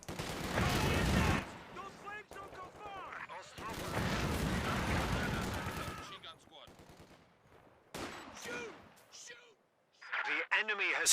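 Machine gun fire in the real-time strategy game Company of Heroes 2, with repeated bursts of automatic fire and explosive battle noise, mixed with other combat sounds and heard under a commentator's voice.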